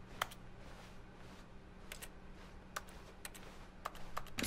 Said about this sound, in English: Wait, this sounds like keyboard.